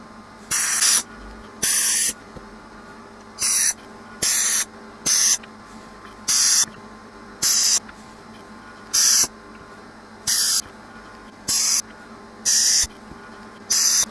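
DeoxIT contact cleaner sprayed onto a vintage record player, heard as about a dozen short bursts of hiss, each roughly half a second long, given at a fairly regular rhythm, close up with no talking.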